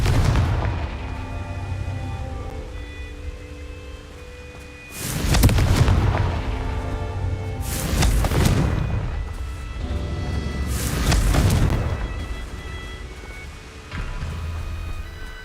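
Confringo spell explosions in the Hogwarts Legacy video game, three loud booming blasts a few seconds apart, each with a broad rumbling roar that swells and fades, over a steady background of game music and ambience.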